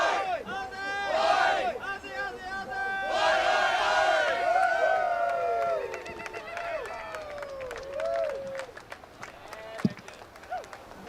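A crowd of Australian Team Irukandjis supporters cheers at the 2023 ISA World Para Surfing Championship, with loud, overlapping shouts and whoops that swell for several seconds and then thin out into scattered calls and a single sharp clap.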